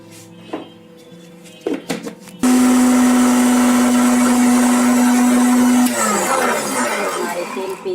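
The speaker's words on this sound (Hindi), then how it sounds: "मैं इसको मिक्सी में पीस लूंगी।" A mixer grinder grinding sesame seeds starts abruptly and runs loud and steady with a high whine and rattling seeds, after a few light kitchen clatters.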